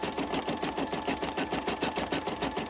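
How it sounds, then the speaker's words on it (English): An embroidery machine stitches on a paper doily in a fast, even mechanical chatter, close and continuous throughout. "show others what this machine can do and what you can do with embroidering"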